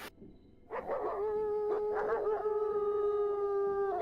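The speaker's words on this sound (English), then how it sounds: "You hear the shrill scream of a child off the distance, followed by the howling sounds of wolves." Wolves howl as an ambient sound effect during a tabletop fantasy game, several long, drawn-out wails rising and overlapping at moderate distance after a sharp opening burst, then holding a steady sustained tone.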